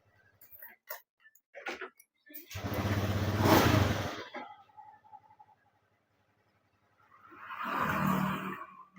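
A Honda Beat ESP scooter with a fault that makes it cut out runs in brief bursts, with a couple of louder revving swells separated by ticking idle and quiet gaps, heard close up.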